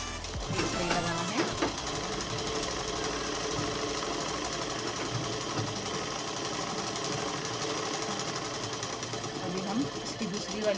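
A sewing machine runs steadily, stitching the double-folded hem of a shalwar in a continuous close whirring drone with no pauses.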